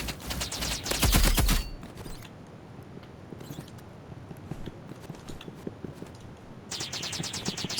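Rapid automatic gunfire bursts in a ranked match of the game Rival, loud at the start and again at the end, with scattered clicks and quieter shots between.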